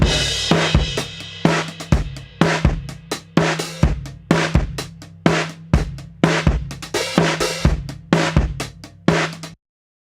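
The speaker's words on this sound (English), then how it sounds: "accentuate that kind of gated sound of the snare" Live-tracked drums heard through two mics blended in a Logic Pro mix, with a sharp, gated snare cracking in a steady pattern alongside kick hits, loud and close with no talking.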